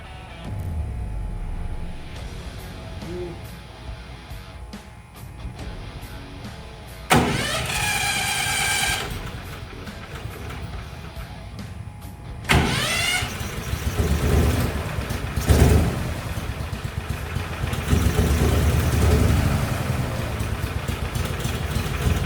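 A twin 459cc mini airboat engine with a faulty carburetor cranks and catches twice, then runs at a loud, rough, uneven idle close by, its rumble wavering and surging throughout.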